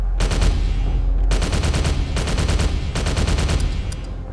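Rapid gunfire from a weapon in the cyberpunk VR game Distortion, three loud automatic bursts of sharp shots close by, separated by short pauses.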